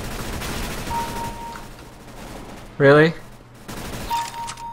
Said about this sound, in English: Why am I getting shot from behind, teammates?